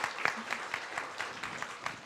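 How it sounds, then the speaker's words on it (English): A seated audience applauds panelists at a seed homecoming ceremony for a vegetable initiative, steady clapping filling a couple of seconds with no one speaking over it. "Please help me give a clap of applause to our panelists."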